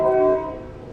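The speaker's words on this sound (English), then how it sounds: "Doot doot. That's the train station." A train horn from a nearby station in Hua Hin, Thailand, sounds as one brief, loud, steady harmonic blast that quickly fades against street ambience.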